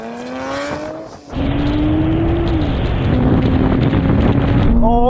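Nissan GT-R cars from R32 to R35 launching in a drag race. A loud engine note falls away, then a hard launch rises in pitch through a gear change, with roaring engines and wind buffeting throughout.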